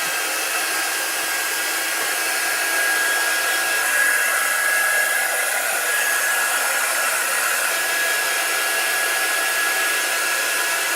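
A hair dryer blows steadily and loudly for the whole stretch while drying a chalk artwork, a constant whooshing roar with a thin whine and no voices.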